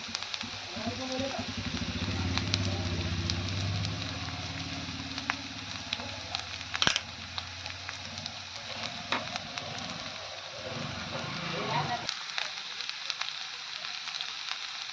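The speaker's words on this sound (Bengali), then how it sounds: "এটা কিন্তু হালকা করে একটু ভেজে নেব।" Chilies frying lightly in oil in a pan give a steady soft sizzle with faint crackles that fades partway through. A sharp clatter of utensils cuts in near the middle.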